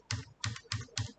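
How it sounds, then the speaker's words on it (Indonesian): Keys on a computer keyboard are pressed in a steady rhythm, five crisp clicks about a third of a second apart, close and alone. "Jadi pada keyboard tinggal tekan Ctrl dan Enter."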